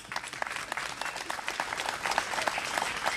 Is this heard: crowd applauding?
yes